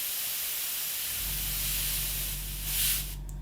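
Airbrush spraying a weathering wash onto a Terminator model, a steady close hiss running throughout with a low compressor hum joining partway and a brief louder burst near the end.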